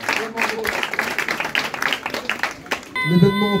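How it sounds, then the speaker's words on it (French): Crowd applause for MMA fighters after a staged face-off at a Kongs FC weigh-in event in La Rochelle, a steady patter of clapping under an announcer's talk that swells louder at the end. "Merci, on peut les applaudir."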